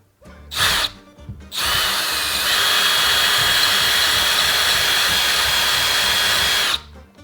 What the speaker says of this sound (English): just drilling through the wall a bunch of times until it's a big enough hole